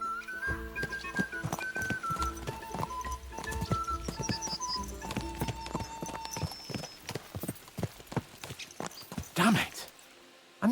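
Horses gallop in the video game Kingdom Come: Deliverance II, hooves clip-clopping rapidly and steadily over a background of musical tones, with a louder burst of movement near the end.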